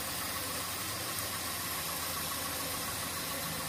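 Suzuki Karimun boxy car engine idling after a throttle adjustment, a steady faint hissing hum with no change in pace, heard alone without talk.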